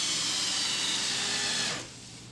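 Power drill driving mounting screws into pre-drilled pilot holes for a wire turnbuckle, a steady whirring motor for under two seconds that then cuts off, leaving quiet room tone.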